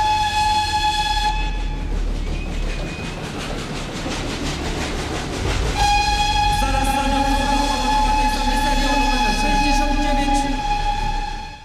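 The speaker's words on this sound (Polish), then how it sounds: "Na razie parowozy można oglądać jedynie podczas takich festynów jak ten." Historic steam locomotives at a railway festival at Wolsztyn station in Poland: a loud, sustained whistle blast with rail rumble, a pause of mixed noise, then another long whistle continuing to the end over background crowd sounds.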